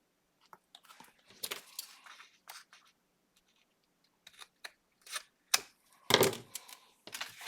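Scissors trim the corners of a junk mail envelope with a few short, close, crisp snips separated by pauses, the loudest cut near the end; no one speaks.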